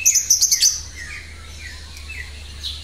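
A female lovebird kept apart from a bird-singing competition field gives a quick burst of high, shrill chirps up close, then softer scattered tweets over a low background hum.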